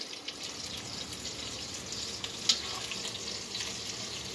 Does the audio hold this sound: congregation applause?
no